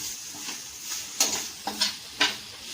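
Ripe nendran banana frying in a pan until browned, with a little sugar: a steady close hiss of sizzling oil broken by a few sharp scraping stir strokes near the end.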